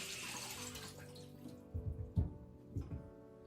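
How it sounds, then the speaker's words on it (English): Warm water poured over spinach for a smoothie: a brief splashing pour at first, then a few distinct wet plops and splashes alone at close range. "Okay, then let's pour some warm water over the spinach."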